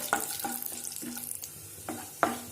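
Chopped cashews sauté in ghee with a soft sizzle as a spoon gives a handful of distinct scrapes and taps against the pan, the last one louder.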